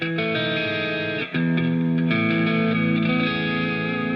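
A sustained electric guitar major ninth chord rings out with a chorus-like shimmer, briefly cut and restruck, then held full and bright.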